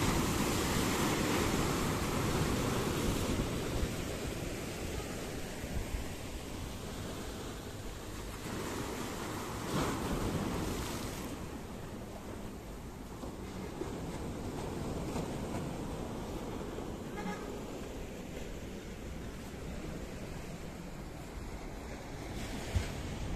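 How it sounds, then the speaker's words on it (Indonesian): Ocean surf rolls onto Gandoriah beach in a steady, broad wash of breaking waves, with soft swells rising and fading over a long stretch and some wind buffeting the microphone, with no voices. "Wow, ombaknya mantap ini."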